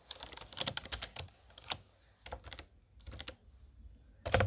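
A command being typed at a computer keyboard, with clusters of close, crisp keystrokes separated by short pauses and a heavier final key press.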